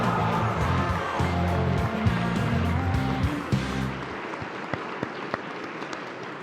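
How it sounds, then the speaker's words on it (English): A graduation ceremony crowd at a high school applauds steadily, a dense close wash of clapping with some voices and tones mixed in, thinning out to scattered claps toward the end. "Let's have one more round of applause, please, for the new JCHS alumni."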